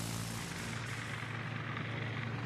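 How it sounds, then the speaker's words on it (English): Torpedo bomber squadron taking off in World of Warships, a steady, loud droning roar of aircraft propeller engines that stays constant throughout the short stretch. "We call the squadron, get some torpedo bombers in the air."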